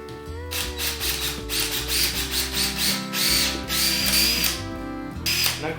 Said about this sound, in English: come down and put drill marks down into these trunks on each side of it, 4 sides.